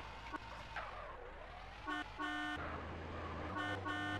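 Car horn in GTA San Andreas, sounded in short steady honks that repeat, two bursts early and two later, over a low engine rumble and street noise, not a siren.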